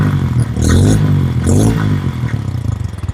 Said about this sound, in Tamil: வண்டியோட இன்ஜின் சவுண்டை பாருங்க.